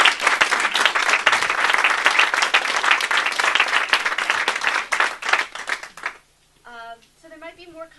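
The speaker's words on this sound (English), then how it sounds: "Can we give a round of applause for everyone?" Luncheon audience applauding, a bright, dense burst of clapping that runs strongly for about six seconds, then cuts off abruptly, leaving a person speaking alone.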